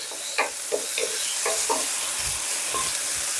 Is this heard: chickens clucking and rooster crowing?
no